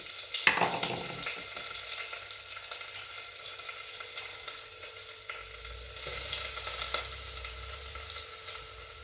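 Crushed garlic and ginger sizzle and crackle steadily in a hot pan, with stirring and a few sharper spatters, close and continuous for the whole stretch.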